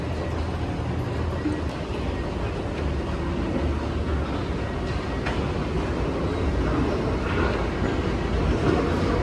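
A Los Angeles Metro Rail train rumbles at the underground Hollywood/Highland station, a dense, continuous roar of wheels and motors echoing steadily throughout at a fairly loud level.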